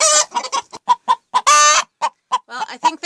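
A hen clucks repeatedly in short, close bursts, with one longer squawk in the middle, loud and near.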